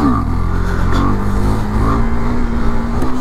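A KTM Duke 390 engine revs hard and steadily in second gear during a wheelie, a loud, close, droning roar that rises slightly in pitch throughout.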